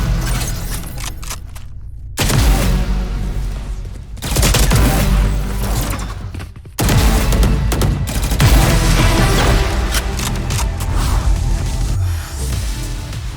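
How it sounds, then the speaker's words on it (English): Loud, dense bursts of rapid gunfire from the game VALORANT, with booming impacts, swooshes and kill banner sounds, cutting in and out in several sections with brief gaps between. "The kill banner has one of the most satisfying sounds"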